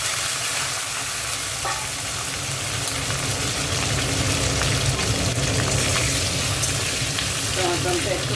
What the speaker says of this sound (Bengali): টমেটোটা একটু ভেজে নেব